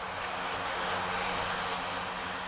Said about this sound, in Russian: На основе легендарного Ан-2 путем замены двигателя и других работ по модернизации удалось провести первые испытательные полеты нового самолета.